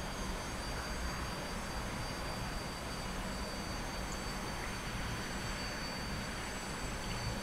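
A T-45 jet trainer in flight in the DCS flight simulator gives off a steady, unbroken engine roar with a broadband rushing hiss that holds at an even level.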